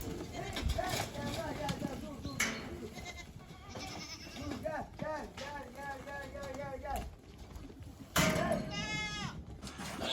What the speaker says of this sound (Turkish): Kuzular kovayı görünce içeri girdiler.